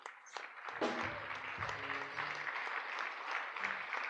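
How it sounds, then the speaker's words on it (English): Audience applause for alumni standing at a high school graduation and award ceremony, a steady sustained clapping from a large crowd, loud and even throughout with a few brief voices mixed in. "We want to give you a round of applause."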